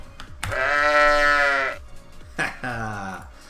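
Sheep bleat sound effect from the Catan video game: two drawn-out, wavering bleats, the first long and loud, the second shorter after a brief pause, close and clear with no talk.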